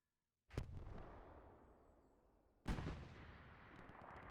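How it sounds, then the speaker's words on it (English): Artillery firing smoke shells in a video game: two heavy booms about two seconds apart, each a sharp loud blast followed by a long rumbling decay. "Interesting smoke artillery, by the way."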